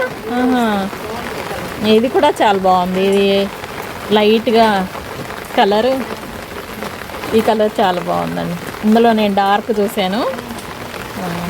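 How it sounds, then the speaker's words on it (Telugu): Rain falls steadily on a terrace garden with roses, chilli and croton plants in Khammam, a continuous hiss under a woman's close, ongoing talk. "వర్షం సౌండ్ వినిపిస్తుందా అండి"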